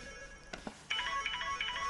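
A mobile phone rings in an indoor drama scene, its steady electronic ringtone starting abruptly after a couple of brief knocks and continuing loudly to the end with no talking.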